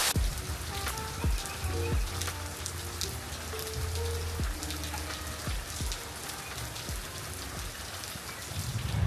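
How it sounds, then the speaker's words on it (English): Steady rain pours down on a farm, a dense continuous patter with scattered heavier drips and plinks close by, some low tonal hum underneath, no voices. "we're just gonna sit and watch the rain"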